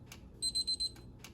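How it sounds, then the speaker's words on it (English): A kitchen timer goes off as a pizza finishes, giving four quick, evenly spaced high electronic beeps, fairly loud and close, with a little handling noise before and after and no talking. "let me turn off this timer"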